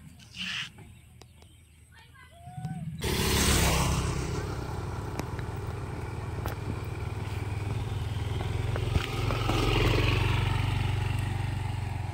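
Motorbike with a rider and a passenger seated behind pulls away, engine noise rising after a quiet start and then holding steady and loud, with some rattling along the ride.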